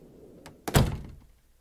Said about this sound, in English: Okay, get inside. Close the door.